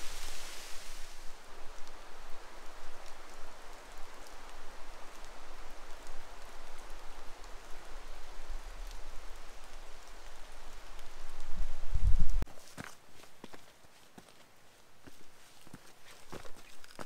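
Steady rain patters on leaves in the Abrams Creek area of the Great Smoky Mountains for most of the stretch, then fades to scattered drips and soft rustling near the end.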